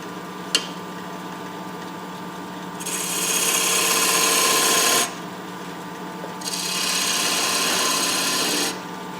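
Two sustained bursts of rough, rasping cutting as a lathe tool bites into a turning wooden vase or vessel, over a constant low motor hum, with a sharp click near the start.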